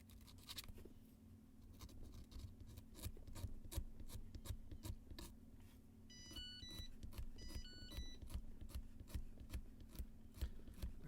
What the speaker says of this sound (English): I got this little filing thing.